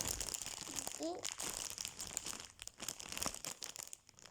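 A plastic bag with a printed picture crinkling and rustling in close handling, with a brief voice in the background.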